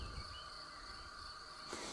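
Bees buzzing in a garden at a house in the French countryside: a steady, faint droning insect hum that holds without pause, distant and low-level, no talk.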